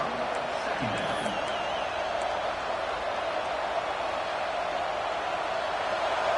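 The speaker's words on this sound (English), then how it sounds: "It's early, but this crowd is fired up. Listen to this noise here." A packed football stadium crowd at a University of Miami versus Oregon Ducks game roars in a steady, loud wash of cheering, with a voice talking over the noise.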